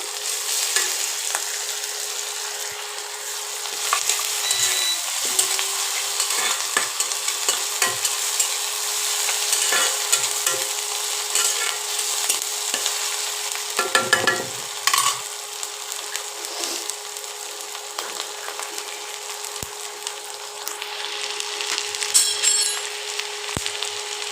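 Ginger and garlic paste frying with chopped onion and chilli in a pan, a steady crackling sizzle with intermittent spoon stirring and scraping, fairly close and continuous throughout.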